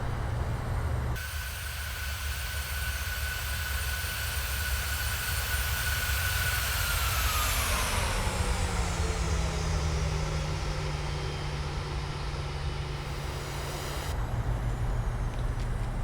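An airliner's landing rollout in Microsoft Flight Simulator, arriving at Malaga, loud steady engine roar from reverse thrust winding down in pitch while braking slows the aircraft, then a lower constant rumble.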